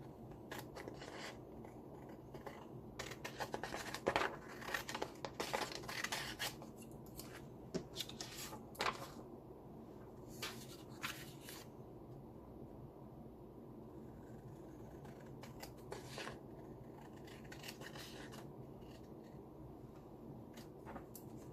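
Scissors snipping through paper for a shabby pink roses card-making craft, with a steady run of small crisp cuts and rustling over about twenty seconds, busiest early on, close up and alone with no talking.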